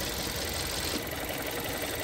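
Car engine idles steadily after revving during a fuel pressure sensor test, a loud close continuous mechanical hum with slight knocking texture and no talking.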